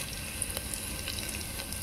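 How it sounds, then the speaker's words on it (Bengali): Garlic and chopped dried red chilli sizzle in hot oil, a steady close crackle of frying with small pops and spits breaking through the hiss. "বেশ লাল করে ভাজা হয়ে গেছে, দিয়ে দিলাম শুকনো লঙ্কা কুচি করা"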